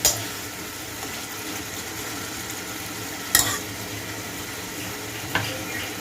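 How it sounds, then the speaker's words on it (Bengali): Half-boiled banana flower tossed with spice masala in a pan, a continuous fry sizzle with two sharp spatula scrapes standing out against the pan. "অল্প 1 মিনিট কষিয়ে নিই মশলাটা, যাতে করে কলার মোচার মধ্যে ভালো করে যায়"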